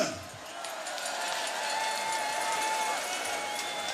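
Audience applause and crowd noise for a Limburg singer receiving an award at a Venlo evening event, a steady dense wash of clapping and cheering that fills the whole stretch.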